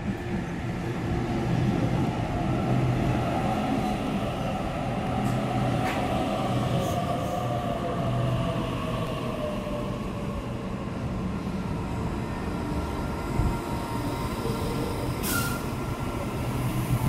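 An electric metro train pulls into an underground platform on a Sydney-style line, a loud continuous rumble and squealing wheel screech with a brief air-brake hiss near the end.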